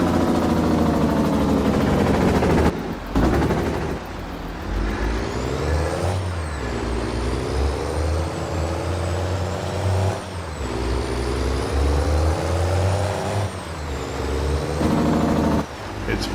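Truck in Farming Simulator 22 backing a trailer into a tight gap between two others on an Ohio dairy farm: a steady engine drone with shifting whine, a brief hiss break near three seconds, and faint background talk.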